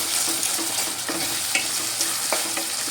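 Ginger and garlic paste fries in a pan over a medium flame, giving a steady close sizzle broken by several scraping strokes of a spoon stirring it.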